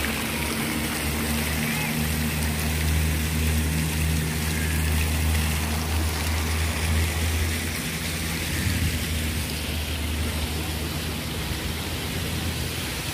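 A helicopter near a military camp at Port Dickson drones as a steady low rotor hum under broad wind-like noise, continuous and fairly loud throughout.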